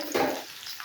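Medium-sized chopped onions frying in hot oil as they are stirred, a short burst of close sizzle and scraping that fades quickly.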